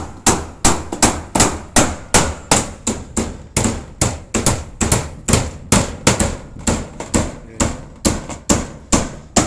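Umbrella nails are hammered into corrugated metal roof sheets with a loud, steady run of sharp, evenly spaced blows, about two to three per second, ringing close by.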